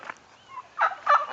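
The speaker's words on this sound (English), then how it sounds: "There's the fowl." Fowl in a backyard garden chicken pen let out a few short, close gobbling calls, two louder bursts following a softer one, with no talk over them.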